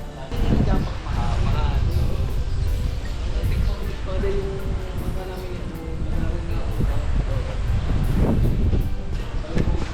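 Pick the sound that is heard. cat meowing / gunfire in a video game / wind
wind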